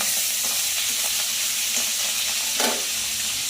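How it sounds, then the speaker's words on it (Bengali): Khoyra fish fries in hot oil in a pan with a steady, loud, bright sizzle that keeps going throughout, broken by a short burst of spattering near the end. "খয়রা মাছটা ভাজা খাওয়া হবে, এই যে ভাজছি"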